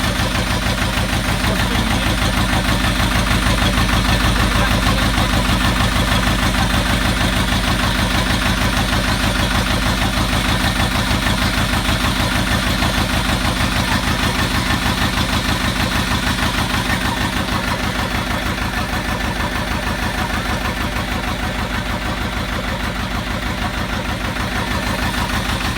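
A narrowboat engine ticks over steadily at idle, a loud, close, constant low chugging rumble that runs unbroken without any talk.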